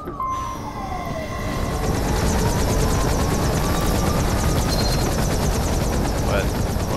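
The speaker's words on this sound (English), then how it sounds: "Hear helicopter sounds." Helicopter in the video game Metal Gear Rising: Revengeance, a loud, steady rotor roar with a rhythmic chopping pulse that swells in over the first second and holds, with a few high tonal sweeps over it.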